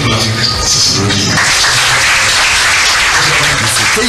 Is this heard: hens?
no